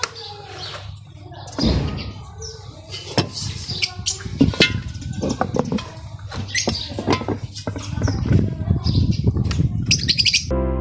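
Lovebirds chirp and squeak in quick, busy bursts, close by in a breeding box, with rustling, scratching and occasional thuds mixed in.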